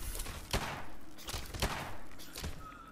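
Gunfire in Fallout 4, three or four sharp shots spaced about a second apart over a rumbling background, fairly close and moderately loud.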